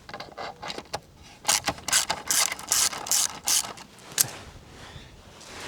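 A 13 mm socket wrench ratchet loosens the top bolt on a scooter, its close, crisp clicking coming in several quick bursts with short pauses between.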